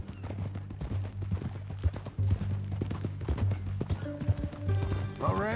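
Horse hooves clip-clop at a steady rhythm in Red Dead Redemption 2, close and clear over low ambient hum, with a short whinny near the end and brief game dialogue.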